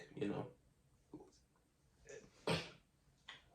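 A single sneeze bursts out amid quiet talk, with a few softer breaths and murmurs around it.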